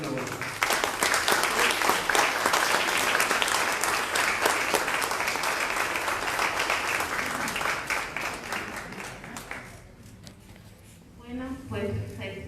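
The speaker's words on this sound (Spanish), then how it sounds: "pido a todas las personas que le brinden un fuerte aplauso aquí al licenciado" Audience at an outdoor community event applauds loudly and steadily for about ten seconds, the clapping fading out near the end, after which a voice begins speaking.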